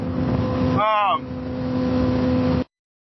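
A Honda CBR sport motorcycle cruises on the road with a steady engine drone and wind rush, heard from the rider's position; a voice briefly speaks over it before the sound cuts off.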